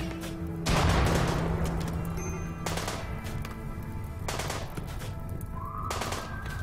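Gunfire in the video game RimWorld during a desert colony fight: bursts of rapid shots and explosive cracks, several loud bursts separated by short gaps, with steady game ambience underneath and no voices.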